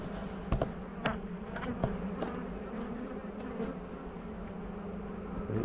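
Honeybees buzz steadily around an opened farm hive during an early-season inspection, a dense continuous drone with a few closer bees passing by in brief louder swells.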